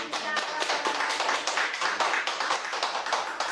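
A small church congregation gives a short round of welcoming applause. The claps are close, quick and uneven, last a few seconds and stay at an even level.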